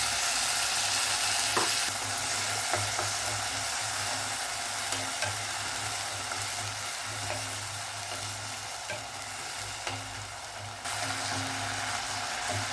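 Grated tomatoes sauté in a pan for a Kerala-style pearl spot fish dish, giving a steady soft sizzle and frying crackle with occasional stirring scrapes, continuous and unaccompanied by talk.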